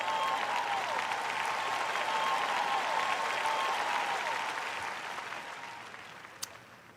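A large church congregation at a sermon gives sustained applause. It holds steady and strong for several seconds and then gradually thins and fades toward the end, with a single sharp clap standing out near the close.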